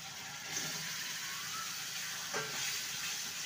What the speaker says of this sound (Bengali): এবারে ভেজে রাখা আলু পটল দিয়ে দেবো।